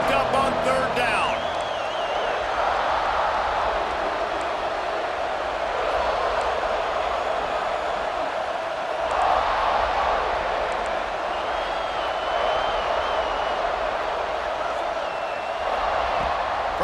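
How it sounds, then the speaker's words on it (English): Stadium crowd noise in the video game EA Sports College Football 26, a steady loud roar swelling as the home fans rally the defense on third down, with a commentator talking over it. "Crowd getting this defense whipped up on third down"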